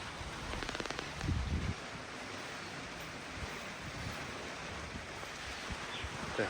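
Rain falling outdoors in a Pathani village as a steady broadband wash mixed with gusting wind buffeting the microphone, with a few louder rustling bursts near the start.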